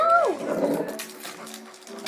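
A dog whimpering with a sliding high whine that drops into a low, drawn-out moan, close and fairly loud over faint background noise.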